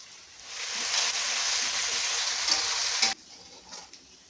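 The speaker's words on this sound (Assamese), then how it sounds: "পিঁয়াজটো ভাজোঁতে আপোনালোকে মিডিয়াম ফ্লেমত ভাজিব, নহ'লে জ্বলি যাব।" Onions with ginger-garlic paste fry in oil over a medium flame for an Indian chicken curry, building into a loud, dense hiss that holds steady for a few seconds and then drops abruptly to a fainter crackle, with no talking.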